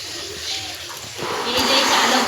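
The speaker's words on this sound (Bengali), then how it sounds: "চলো এই গামলি পুরো আমি ভর্তি করে নিই জল ভরে" Water pours into a black plastic tub in a bathroom as a steady, close rush of running water that grows louder and fuller partway through.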